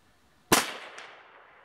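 A single sharp, snappy gunshot cracks from a Marlin 1894M .22 Magnum rifle fired outdoors, followed by a short fading echo and no talk.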